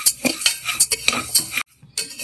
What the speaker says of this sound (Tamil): அரிசியும் பருப்பையும் கை பொறுக்கிற சூட்டுக்கு நான் வறுத்துக்க போகிறேன்